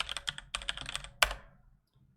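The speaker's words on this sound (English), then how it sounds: "And I'm going to type exactly what Titus has here." Rapid keystrokes on a computer keyboard, entering commands into a terminal config file on Pop OS running in a virtual machine, come in close, clattering bursts, ending with one sharper key hit before a quiet tail.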